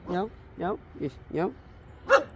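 A dog gives five short barks in a loose rhythm, close and fairly loud, the last one sharper and higher, with no talk over them.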